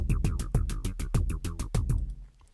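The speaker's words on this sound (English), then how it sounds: "we have a kick drum, a snare, a hi-hat, a bass" A programmed loop built in Reason software: punchy kick drum, snare and hi-hat over a deep bass line, repeating in a steady rhythm for a couple of seconds before the last hit rings out and fades, with nobody talking.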